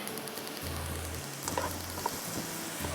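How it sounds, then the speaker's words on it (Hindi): Onions softening in a pan give a steady, even sizzle with faint crackles, close and moderately quiet, with no talk over it. "प्याज को आपको बिल्कुल भी ब्राउन नहीं करना है, सिर्फ बुझ जाए, ज़रा सी सॉफ्ट हो जाए।"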